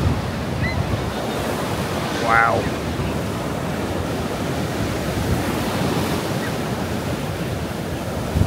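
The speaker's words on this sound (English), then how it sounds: "See the sea just rolling along the wall." Stormy sea waves at Blackpool roll against the sea wall in a continuous heavy roar with buffeting wind noise, and a brief exclamation is heard partway through.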